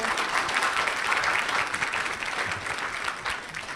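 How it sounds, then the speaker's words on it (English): A gardening talk audience claps after the presentation, a full, steady round of applause that holds at even strength from start to finish. "Can we have, please, a round of applause for our presentation?"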